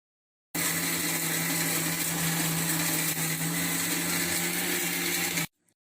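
Mixer grinder blending curry leaves and fenugreek for homemade hair oil, running as one continuous loud whirring drone for about five seconds and then stopping abruptly.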